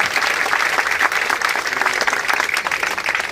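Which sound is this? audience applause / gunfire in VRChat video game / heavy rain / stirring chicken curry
audience applause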